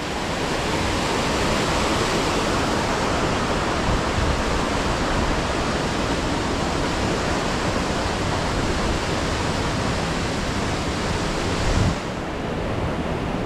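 Cotter Force waterfall roaring steadily and loudly, a dense unbroken rush of falling water close by with no voices.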